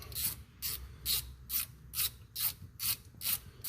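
A hand ratchet loosens a bolt on the intake bracket of a Roxor engine, giving about nine even clicking pulls in a steady rhythm, close and clear with no talk.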